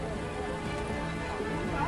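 Heavy rain pours during flooding in Palopo city, a dense, steady roar of water at constant loudness, with a voice talking over it.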